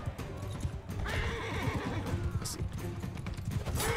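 A horse in the Mount and Blade II: Bannerlord video game neighs loudly over steady clip-clopping hooves and battle noise, with the whinny rising clearly near the middle and again at the end.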